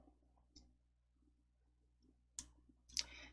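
Computer mouse clicks while setting a font in PowerPoint, a faint tick near the start and two sharper, louder clicks toward the end, with no talking.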